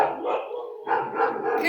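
Dog barking and howling in the Death Mark horror video game, a continuous, loud, wavering canine cry that swells twice over under two seconds, heard alone.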